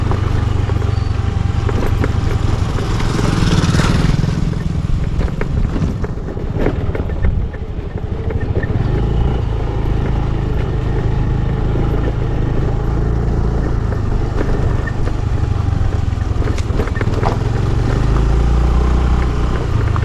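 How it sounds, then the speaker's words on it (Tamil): A vehicle coming along a forest road near a river crossing in the Sathyamangalam tiger reserve: a steady, loud engine rumble with road noise and clatter that holds throughout, swelling slightly as it draws nearer. "வண்டி வருது."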